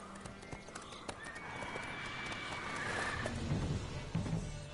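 Roach, a horse in The Witcher 3 video game, clip-clops along in a brisk, steady rhythm of hoofbeats under a soft in-game ambience, and a faint whinny is heard partway through.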